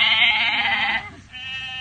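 A goat bleating sound effect gives two loud, wavering bleats: a long one lasting about a second, then a brief pause and a shorter second bleat, with no voices.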